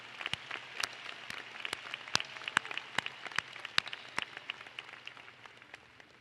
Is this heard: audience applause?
yes